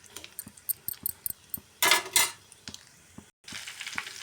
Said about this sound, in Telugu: ఇప్పుడు కరివేపాకు వేస్తాను.